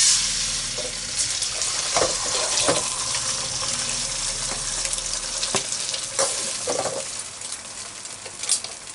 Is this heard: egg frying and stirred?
yes